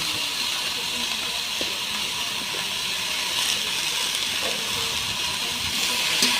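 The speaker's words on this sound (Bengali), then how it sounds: "যতক্ষণ না সবজিটা ভালো করে ভাজা হচ্ছে আমাকে নাড়াচাড়া করতে হবে।" Vegetables sizzling in a pan with a fried fish head for a Bengali chorchori, cooked with salt and turmeric, a steady close hiss of frying lasting throughout with faint scraping as the pan is stirred.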